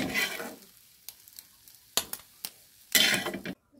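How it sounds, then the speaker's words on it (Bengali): Eggs frying in a pan until browned, a loud crackling sizzle that fades and returns in bursts, with sharp clatters and scrapes of a utensil in between. "ডিমটাকে লাল লাল করে ভেজে নিয়েছি"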